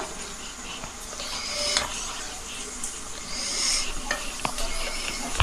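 Chopped coriander stirred by hand into a spicy Bombay duck (lote fish) jhal curry in a pan, giving steady scraping and soft sizzling throughout with a few sharper utensil scrapes near the end.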